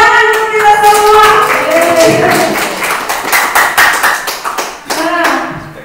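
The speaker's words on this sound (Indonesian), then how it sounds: "Tepuk tangan untuk kita semua." Clapping from a group at a school teacher training session, a burst of hand claps and taps with some voices and tonal sound mixed in, dense at first, then thinning into scattered claps.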